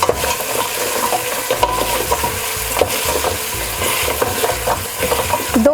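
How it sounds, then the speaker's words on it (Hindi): Beef with ginger and garlic frying and being stirred in a pot, a steady loud sizzle with scraping spoon strokes and occasional clinks throughout, no talking. "हमने गोश्त को भूनना है"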